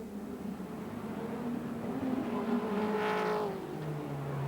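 Racing engine of the leading number 7 Texaco Ford Sierra touring car, driven by Klaus Ludwig in the 1987 Nissan Mobil 500, roars steadily and swells as the car passes close, then fades slightly into the background.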